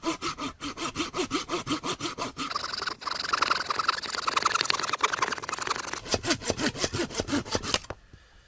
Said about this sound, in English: we're going to see just how well each one of these saws cuts through it. First up, our Fiskars folding saw.